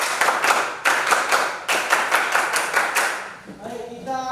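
A class of students clapping their hands together, loud rhythmic bursts of claps close by for about three seconds, then fading out as a voice begins speaking at the end.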